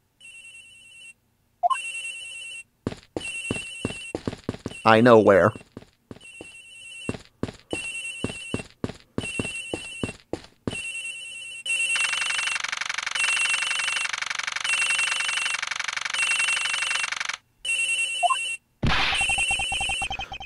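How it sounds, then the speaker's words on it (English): A phone rings in the video game Ace Attorney Investigations, with repeated electronic ringtone bursts broken by gaps, short game sound effects and one brief spoken line, ending in a longer steady tone. "The ringing's coming from somewhere in here, sir."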